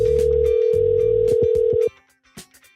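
Steady telephone dial tone sounds loudly for about two seconds, then cuts off, leaving faint clicks and quiet background noise.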